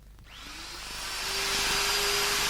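A handheld wood router runs a dovetail cutter set about 16 mm deep through a trial cut in timber, moving right to left: a steady, loud high-pitched whine that swells as the bit bites, with a faint tonal hum beneath and no talking.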